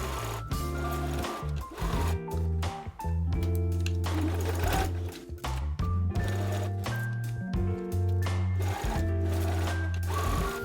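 A home sewing machine runs a straight stitch at a half-inch seam through blanket fabric for holiday pajamas, a steady loud mechanical whir that stops and restarts in several bursts, close by with no talk.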